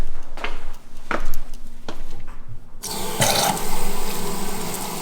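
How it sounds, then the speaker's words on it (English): Tap water runs onto a terry weave towel being soaked for cleaning a suede steering wheel, a few splashy bursts giving way to a steady rushing stream, close and fairly loud. "Just gonna soak it in water."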